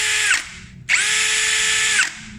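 A Yasuka YID-318CB impact drill whines loudly in two bursts, a short one then a longer run, spinning up and winding down each time.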